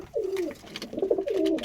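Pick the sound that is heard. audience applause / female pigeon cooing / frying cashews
female pigeon cooing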